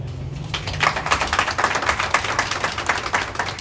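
A ceremony audience claps in a steady run of sharp, distinct hand claps, moderately loud and close, continuing without a break for a few seconds.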